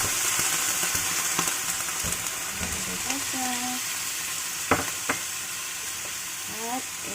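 Vegetables and jackfruit stirred in a pan of coconut milk, a steady bubbling sizzle with scattered utensil scrapes and clinks, fairly close, with a few faint voice-like tones in the middle.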